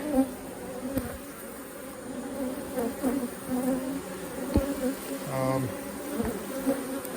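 Angry honey bees swarm around an opened hive, a constant near buzzing with individual bees droning close past the microphone at varying pitches.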